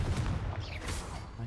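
A Confringo blasting spell is cast in Hogwarts Legacy, landing as a quick burst of explosive bangs and crackling impacts with a rumbling low end, brief and fairly loud.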